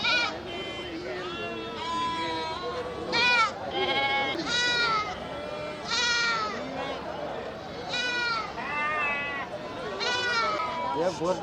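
Goats at a busy livestock market, many near and far bleats overlapping with people talking throughout.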